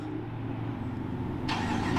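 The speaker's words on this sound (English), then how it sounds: "let's fire up this V8 and bring it to life" A 2023 Dodge Durango R/T Hemi V8 engine rumbles low, then catches with a sudden louder surge of hissing roar as it starts up.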